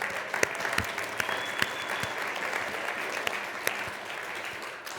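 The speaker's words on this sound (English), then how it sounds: "So let's give them a big round of applause." Sustained applause from an audience at a winter speaker series event, steady clapping filling the whole stretch with a few sharper claps standing out, no talk over it.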